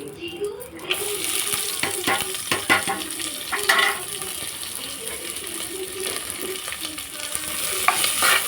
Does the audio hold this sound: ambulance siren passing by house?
no